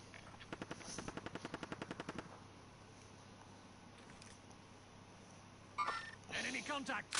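Rapid automatic gunfire in Modern Warfare rattles off in a fast burst of about a dozen evenly spaced shots, then gives way to quieter battlefield ambience, with a voice speaking near the end.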